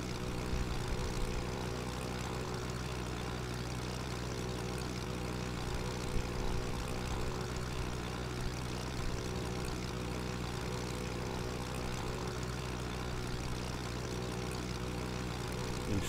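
A light propeller plane in cruise on a cross-country hop from Reelfoot Lake, Tennessee, toward Bull Shoals Lake, Arkansas, its engine drone heard from inside the cabin as a steady, unbroken hum.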